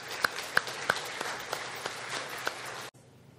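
A church congregation at a Sunday service applauds to welcome kindergarten children, with a short burst of scattered claps, several sharp hand strikes standing out, before it cuts off abruptly.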